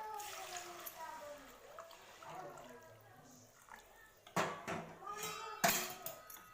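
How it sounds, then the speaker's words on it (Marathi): Hot water goes into a pan of fried fish masala, making two short, close bursts of splashing and sizzling after a stretch of someone speaking. "एक मिनटं छान फ्राय करून घेतलेलं आहे त्याच्यात आपण गरम पाणी घालूया"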